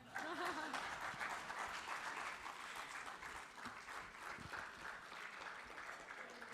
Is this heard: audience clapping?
yes